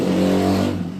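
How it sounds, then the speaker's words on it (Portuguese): A motorcycle roars past close by, its engine revving hard as it accelerates, loud and continuous for about a second. "esse motoqueiro que acabou de passar aqui acelerando"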